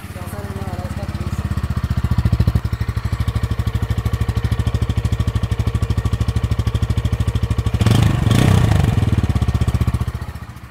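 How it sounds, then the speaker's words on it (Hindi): Bajaj Pulsar N160 2025 single-seat motorcycle idling close by, a steady low thumping exhaust note that swells briefly with a rougher, louder burst near the end before settling back. "तो ये था इसका एग्जॉस्ट नोट।"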